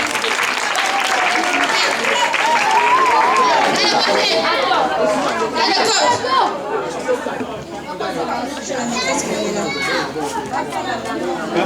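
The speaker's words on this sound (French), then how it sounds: "Applaudissez pour notre enfant." A school crowd at a Saturday competition gives sustained, loud applause and excited chatter for a pupil, with children's voices mixed in and an announcer talking over the clapping.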